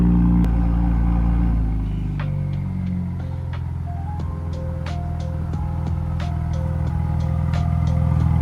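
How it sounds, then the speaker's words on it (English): An Acura TLX Type S idles with its turbos cooling down, a low steady engine hum that settles after the revs drop, with faint tones and light ticking above it and no talking. "in person, I can just hear that turbos cooling down"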